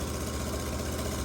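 An irrigation pivot engine running after a restart, a steady rhythmic knocking idle, close and continuous, with no talking.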